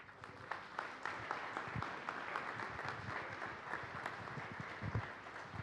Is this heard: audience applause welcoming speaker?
yes